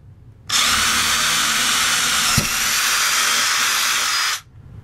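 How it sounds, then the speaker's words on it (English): A power drill with a 7/16 inch bit bores a hole near model train track, a loud, steady whine starting abruptly, holding for about four seconds with a brief mid-way thunk, then stopping; no speech. "I'm going to drill my hole."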